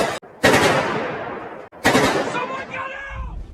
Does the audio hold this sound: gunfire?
yes